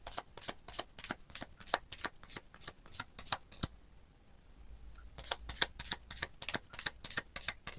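Tarot and Lenormand cards laid out one after another in a brisk, steady run of close, crisp card snaps and slides, pausing briefly midway before the quick rhythm resumes, with no talk.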